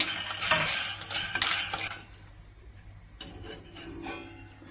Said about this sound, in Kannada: ಮೊದಲಿಗೆ ಬಾಂಡ್ಲಿ ಇಟ್ಬಿಟ್ಟು ಈ ಕಡಲೆಕಾಯಿ ಬೀಜ, ಎಳ್ಳು ಅದನ್ನೆಲ್ಲ ಒಂದು ಸ್ವಲ್ಪ ಹುರ್ಕೊಳ್ಳೋಣ ಬನ್ನಿ